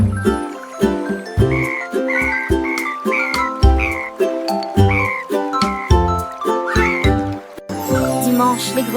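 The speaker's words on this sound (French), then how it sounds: "Dimanche, les grenouilles ont commencé à chanter des mélodies qui font chanter les cœurs." Frogs croak in a quick, pulsing chorus over tinkling music in a children's nursery song, the croaks close and loud alongside the chiming melody.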